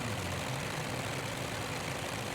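The Ryan ST aircraft engine in a flight simulator game drones steadily in flight, a dense, unchanging low hum and broadband roar heard alone and fairly quiet.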